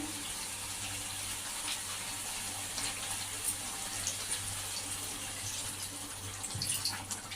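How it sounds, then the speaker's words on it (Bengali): Water pours into a curry pan of mixed vegetables with prawns, a soft continuous splash and trickle heard faintly and close, steady for several seconds with no voices. "একটু জল দিয়ে দেবো নেড়ে চেড়ে"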